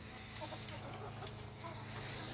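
Leghorn hens with floppy combs clucking in a backyard flock, a steady stream of soft, mid-distance clucks and murmurs throughout, without speech.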